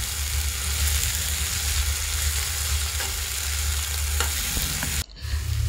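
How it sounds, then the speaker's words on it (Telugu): Brinjal pieces frying in oil on a low flame give a steady, close sizzle with continuous stirring, ending in a brief scrape. "నూనెలో బాగా ఫ్రై అవ్వనివ్వాలి."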